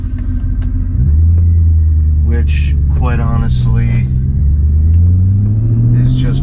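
A BMW with a freshly restored engine and suspension on its first drive rumbles steadily and close, its engine note rising as it pulls, while someone talks over it.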